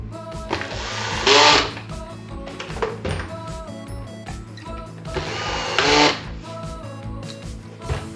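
An electric screwdriver on a low clutch setting drives screws into a Folletto VK 140 vacuum's front cover, whirring in two long bursts, its motor buzzing steadily with rhythmic clicking between the runs.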